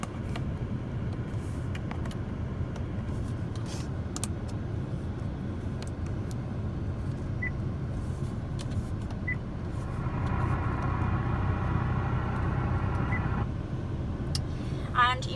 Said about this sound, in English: I'll just turn off the engine for you now